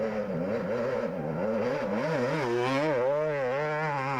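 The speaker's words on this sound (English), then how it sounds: "You can hear the 2-stroke revving behind him." A 250cc two-stroke dirt bike engine revs up and down in quick wavering bursts during a GNCC race, a buzzing whine rising in pitch, moderately distant with no voices.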